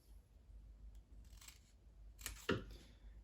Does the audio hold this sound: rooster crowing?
no